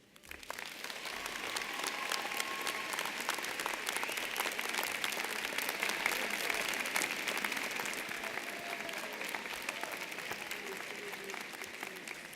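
An audience at a spring university nursing commencement ceremony breaks into sustained applause. The dense clapping swells quickly and holds steady for over ten seconds before easing slightly. Faint voices sound beneath it.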